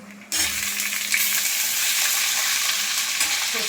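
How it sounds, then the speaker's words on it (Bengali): Eggplant pieces drop into hot oil in a pan beside already-fried hilsa, and a loud, dense sizzle bursts in abruptly, then stays continuous and close. "এর সাথে বেগুনগুলো দিয়ে ভেজে নেব।"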